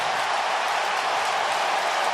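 Steady, dense roar of a stadium crowd at an NFL Wild Card playoff game between the Carolina Panthers and Los Angeles Rams, loud and continuous with no break.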